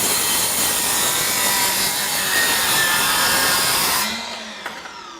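An RYOBI 18V 7-1/4 inch sliding compound miter saw cuts through a piece of 1-inch hardwood, a loud, steady whining buzz of blade in wood held for about four seconds, then falling away as the motor spins down alone.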